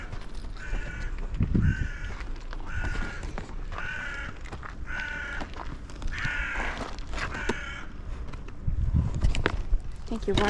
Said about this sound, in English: the crows are sending the alarm